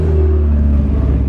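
A sports car engine runs in Monaco, a loud, steady low rumble heard up close, with no voices over it.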